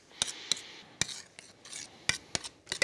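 A spoon scrapes and clinks against a pot while stirring warming tomato sauce, giving sharp, irregular metallic strokes with soft rasping between them, close and alone without speech.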